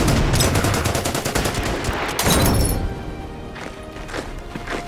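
Rapid gunfire from units in the strategy war game Order of Battle: Winter War, set on the Karelian Isthmus: dense bursts of machine-gun and rifle shots, loud and close, thinning into scattered reports.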